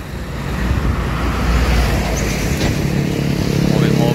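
Large vehicles, including Hino 500 trucks, pass on a busy Monday road outside a Rosalia Indah bus ticket office, making a steady, loud, continuous engine rumble and roadway roar that builds slightly and holds throughout.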